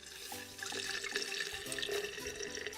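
Liquid extract is poured into a bottle as part of making homemade extracts, giving a steady, close trickling stream that keeps up throughout with small gurgles and no voices.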